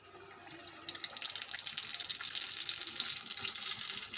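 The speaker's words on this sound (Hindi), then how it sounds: "अब हम इसमें कचौरी डालेंगे" Kachori frying in hot oil in a frying pan, a bright crackling sizzle that swells within the first second and holds as a dense, steady hiss close by, with no voices.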